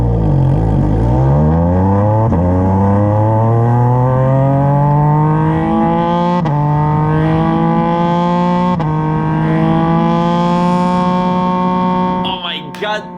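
A high-pitched formula race car engine at Mugello screams and revs up through several gear shifts, loud and close, with a brief crackle at the end.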